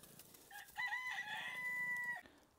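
A rooster crows once, a drawn-out call close by, with faint clucking around it.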